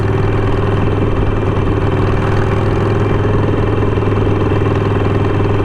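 A stage 1 Harley-Davidson Sportster 48 V-twin idles steadily and loud up close, its deep lumpy rumble holding an even beat throughout.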